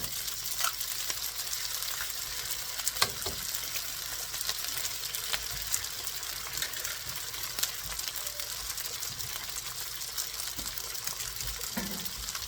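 Two cracked eggs fry and get lightly scrambled in a pan for shrimp fried rice, giving a continuous close sizzle with occasional utensil scrapes and taps and no talking.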